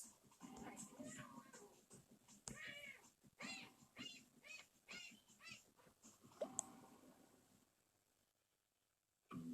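A trapped, hurting kitten meows in a video game, several plaintive cries scattered through the clip and mixed with speech, then fading to near silence at the end.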